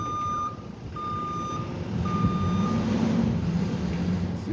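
A truck backs up at a street construction site in the Parker and Gurney Street area, sounding a few evenly spaced high reversing beeps over a low diesel engine rumble that grows louder as it moves.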